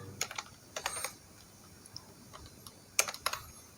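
Python code typed on a computer keyboard: irregular bursts of light, close key taps with short pauses between clusters, quiet and alone.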